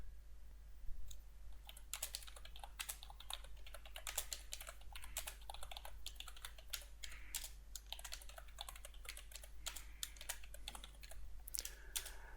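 A computer keyboard typing an email subject and message: quick, irregular key clicks in bursts, close and fairly faint over a steady low hum, with no voices.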